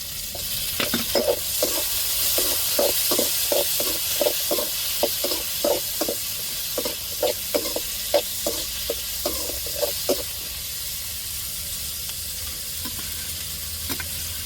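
Tomatoes and onions sautéing in a pan give a steady sizzle, broken by a regular run of scraping stirs that knock and clatter for several seconds before easing off.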